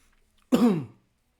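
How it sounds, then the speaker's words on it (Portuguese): A single short, raspy cough, close and fairly loud, lasting about half a second with silence around it. "Desculpa a tosse, porque eu estou com uma tosse braba."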